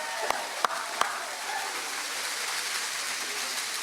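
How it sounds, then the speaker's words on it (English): An audience applauds children who have just performed at a Teacher of the Year celebration. A few sharp claps stand out at first, then give way to a steady, even patter of many hands that sounds somewhat distant. "I'm going to get some more applause for our kids"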